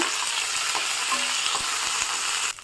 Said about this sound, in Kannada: ನಂತರ 1 ಕೈ ಹಿಡಿ ಆಗೋಷ್ಟು ಕೊತ್ತಂಬರಿ ಸೊಪ್ಪು ಹಾಕ್ಬಿಟ್ಟು ಚೆನ್ನಾಗಿ ಫ್ರೈ ಮಾಡ್ಕೊಳ್ಳಿ 1-2 ನಿಮಿಷ